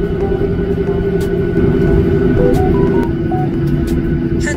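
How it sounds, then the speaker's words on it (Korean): A Jeju Air airliner at Incheon Airport spools its engines up for takeoff, producing a loud, continuous, close roar that holds steady and swells slightly without letting up. "서서히 비행기 출력을 높이고 있습니다."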